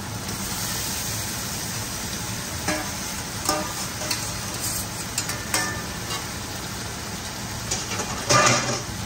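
Chicken sizzles and fries in a pan for Bangladeshi-style Chinese cooking, with a steady hiss broken by scattered scraping stir strokes and one louder clatter near the end.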